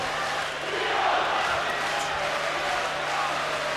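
A 25,000-strong boxing arena crowd roars for Steve Collins during his WBO super-middleweight rematch with Chris Eubank, a steady, distant wash of cheering beneath a commentator's voice.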